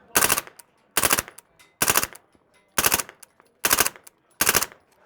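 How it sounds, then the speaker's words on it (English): Suppressed full-auto fire from an MP5 fitted with a Banish 9K titanium suppressor: six short, sharp bursts spaced about a second apart, loud and close, with brief quiet gaps between them. "we're going to run it on full auto and out of an MP5"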